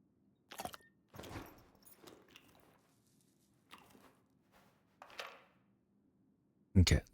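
Sausage eaten mid-firefight in S.T.A.L.K.E.R. 2, a few soft wet bites and chewing squishes spread over several seconds, close and fairly quiet over a low hum, ending with a louder crunchy burst.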